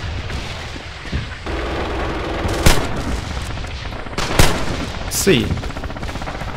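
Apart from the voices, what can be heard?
gunfire in the video game Red Orchestra 2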